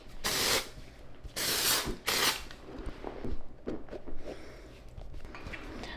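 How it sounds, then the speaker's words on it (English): Balloon volume hairspray misted onto fine, thin hair in three short close bursts, each a sharp aerosol hiss, followed by faint handling rustles. "Now we're gonna top it off with the balloon volume spray."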